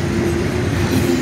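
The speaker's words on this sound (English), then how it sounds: "we got a train blocking the road" Steady rumble and rhythmic clatter of a freight train rolling past nearby, with a faint squeal over the low drone.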